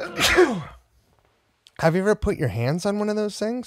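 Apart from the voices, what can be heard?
sneeze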